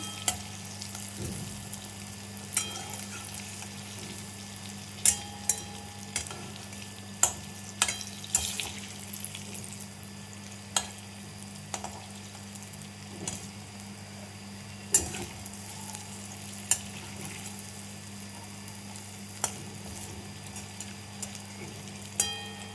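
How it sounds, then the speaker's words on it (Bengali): Mung dal fritters (bora) fry in oil with a quiet, steady crackle, broken by scattered sharp clicks and taps from turning them in the pan, with no voices. "এইভাবে সব বড়াগুলো আমি ভেজে নেব।"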